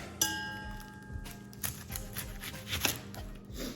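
An onion being cut with a knife on a board, a series of irregular close chops and slicing taps, moderately quiet with no talking.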